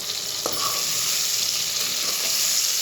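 Brinjal pieces tossed with rock salt fry in a pan with a steady, close, continuous sizzle, with one faint stir or scrape near the start.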